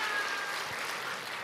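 Church congregation clapping in praise at a 75th anniversary service, a brief steady patter of applause at moderate level that begins to fade toward the end, with no voices over it.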